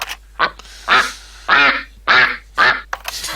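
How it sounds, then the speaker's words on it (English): A duck quacks six times in short, raspy, evenly spaced bursts, loud and close with no other sound around them. "duck quack"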